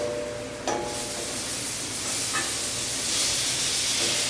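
Tomato dropped into hot oil with fried spice powder and green chilies in a pan, giving a sharp burst of sizzling followed by a steady loud hiss that swells slightly toward the end.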